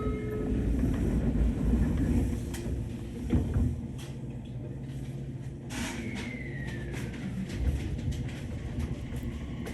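JR Kyushu train heard from inside the carriage, a steady low rumble of running gear with rattles and clatter, swelling and easing as it travels, and a brief squeal or whistle-like tone partway through.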